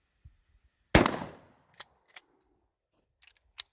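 A single shotgun blast of buckshot fired at a target 21 yards away on a range, a loud sharp report with a decaying tail, followed by a few faint clicks and handling noises.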